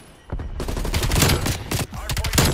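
Rapid automatic gunfire from Call of Duty Black Ops Cold War, dense overlapping bursts of shots firing close and loud almost continuously, with brief gaps between volleys.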